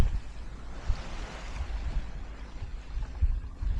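A sailing boat moves under sail off the Isle of Arran at about 4.5 knots, with a steady wash of water along the hull and soft wind rumble. The sound is continuous and moderate, with small low thumps from the hull through the waves.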